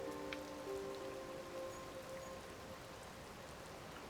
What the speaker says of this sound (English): I might just have to wait until the rain disappears